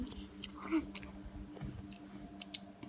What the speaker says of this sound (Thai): ส่วนแบบหมูมันก็กรอบมากไม่เหนียวเลยนะทุกคน เคี้ยวง่ายมาก